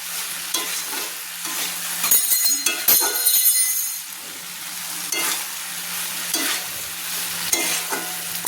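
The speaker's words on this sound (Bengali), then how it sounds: "দিয়ে আমি এই সময় মাঝারি ফ্লেমে কিন্তু নেড়ে নিচ্ছি" Boiled pasta stirred in an oily pan over a medium flame, with a steady sizzle under repeated scraping and clinking strokes of the spoon against the pan, close and fairly loud.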